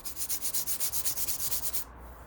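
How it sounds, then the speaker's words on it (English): Coarse 60-grit sandpaper rubbed by hand over a BMW Z4 Coupe front bumper, with around fifteen steady rhythmic back-and-forth scrubbing strokes up close that stop near the end. "So I'm using 60 grit. You can probably tell"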